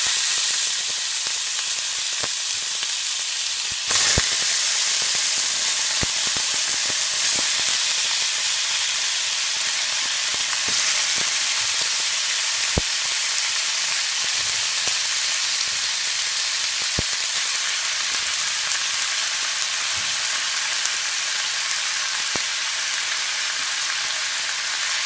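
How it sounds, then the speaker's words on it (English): Beef and onions frying in hot oil for a stew, a loud, steady sizzle and hiss with scattered small pops, no voices over it. "So my oil is hot now. So now I'm gonna add my beef and my onions also with the beef."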